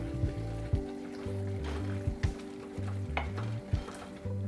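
A spoon stirring red chana masala, a black chickpea curry with coriander leaves and kasuri methi, in a pan: soft scraping knocks at an irregular rhythm over a steady gentle sizzle, close and fairly quiet.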